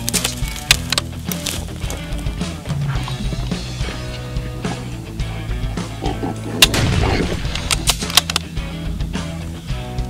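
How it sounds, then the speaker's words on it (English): A gunshot fired at a boar hog during a hunt, one sharp report among several cracking impacts over a busy, dense outdoor background, close and loud. "Put a nice shoulder shot on him."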